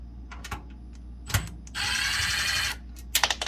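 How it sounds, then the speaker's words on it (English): An 8mm driver removes screws from the back of a refrigerator: a few light ticks and clicks, then a sustained whirring buzz of about a second, followed by more small clicks, close and without speech. "take these screws out."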